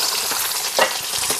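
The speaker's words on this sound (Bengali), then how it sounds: "এবার ওই একই তেলের মধ্যে আমি আলুটাকে একটু ভেজে নেব হালকা করে।" Potatoes fry lightly in oil already used for frying jackfruit, giving a steady close hiss of sizzling with a brief scrape of stirring in the middle.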